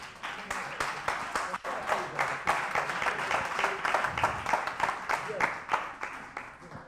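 An audience applauds at the close of a televised contest semi-final show, a steady crackle of many hands clapping at moderate level for several seconds before easing slightly at the end.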